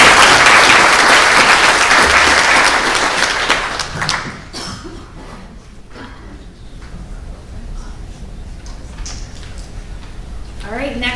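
A school board meeting audience applauds for an absent honoree, a fairly loud burst of group clapping that fades after a few seconds, followed by quieter room noise with speech, shuffling and a few knocks.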